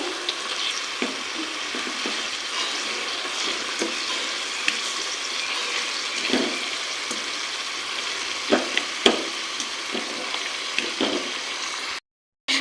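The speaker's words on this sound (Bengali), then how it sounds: "মাংসটা কিন্তু এবার অ্যাড করে দেবো দিয়ে ভালোভাবে কষিয়ে নেব" Chicken pieces fried in oil in a pan, a loud, continuous frying hiss with occasional spoon knocks and stirring scrapes, ending in a brief silence.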